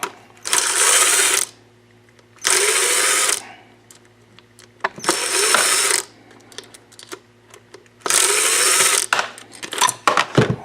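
A hand tool ratchets out screws while an Arctic Cat 500 carburetor float bowl is taken apart, in four separate bursts of rapid, close, loud clicking with short quiet pauses between them.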